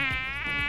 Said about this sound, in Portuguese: Comi manga, vem mosquito até da Europa